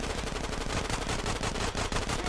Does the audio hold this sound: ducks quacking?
no